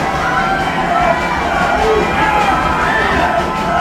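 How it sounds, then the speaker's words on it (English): A high school football crowd at an Indiana regional playoff game chanting defense, a loud, massed roar of many voices filling the stands, steady and continuous with scattered shouts rising above it. "The Indians crowd chants defense."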